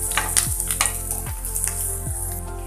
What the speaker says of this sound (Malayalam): ഉള്ളിയെല്ലാം ഒന്ന് ചെറുതായിട്ട് വഴന്നു വന്നിട്ടുണ്ട്.